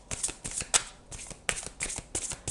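Tarot cards are shuffled by hand in quick, riffling bursts of papery flutter, close and clear, with short pauses between the bursts and no voice.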